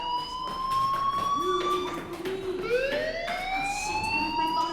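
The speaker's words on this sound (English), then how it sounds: "do you hear that fire alarm? That means you should be outside." Fire alarm in the Life is Strange video game wails continuously, a rising and falling siren-like tone that stays loud and sustained throughout.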